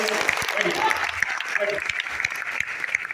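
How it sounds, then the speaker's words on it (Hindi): An audience at a business plan presentation claps for Yadav ji, a brisk round of applause with some voices mixed in underneath. "जबरदस्त ताली है यादव जी के लिए।"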